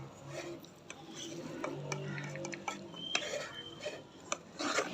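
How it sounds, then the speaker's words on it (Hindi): A spoon scrapes and clinks against a pot while sweet vermicelli is served onto a dish, with soft, close metallic taps and rubbing against a low background hum. "अब हम आपको डिश आउट करके दिखाते हैं।"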